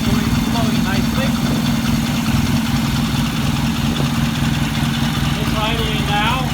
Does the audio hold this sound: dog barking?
no